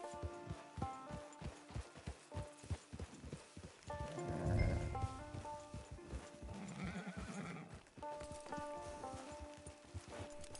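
Horse in Red Dead Redemption 2 clopping along in a brisk, regular rhythm of hoofbeats, with a loud whinny breaking out midway, close and clear over light outdoor ambience.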